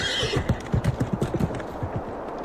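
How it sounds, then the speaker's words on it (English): Horse hooves clop in a quick, steady run of beats, moderately close, with a whinny-like tone at the start, set against a low rumbling background. "The clopping of horse hooves is faintly heard as a gate of blue flame erupts."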